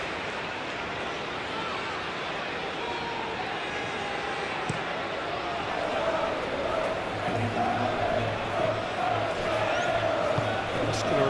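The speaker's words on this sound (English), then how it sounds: "it certainly got the crowd going" A stadium crowd cheers during an England vs Uruguay football match in a video game, a dense, continuous roar that swells louder partway through.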